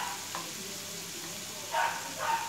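Boiled soybeans drop into a spice masala frying in a pan, giving a steady sizzle with a few short bursts of scraping and stirring close by.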